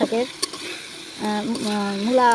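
Dried mola fish sautés in a pan over a clay stove in a garden, with a soft, steady sizzle and occasional stirring scrapes under a person talking nearby.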